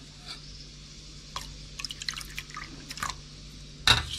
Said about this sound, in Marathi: आता आपल्याला हे आगळ म्हणजे कोकमाचं पाणी हे ओतायचं आहे हे बघा